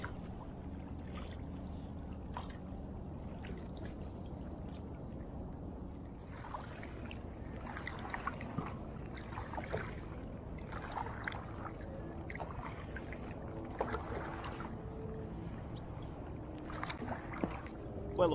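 Paddle strokes and light water splashes from an Advanced Frame Sport kayak out on the water, a soft, irregular dribbling and swishing close by, with no talking.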